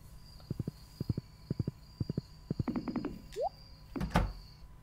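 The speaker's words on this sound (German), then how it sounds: "Los, Pferdchen, trag mich nach Hause, geschwind wie der Wind." Horse hooves clip-clopping in steady paired beats while riding in the Stardew Valley farming game, with a soft rising whistle-like tone and a louder thunk near the end; no talking.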